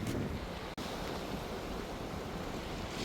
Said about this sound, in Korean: 바람이 세고 파도가 높아 많이 셉니다.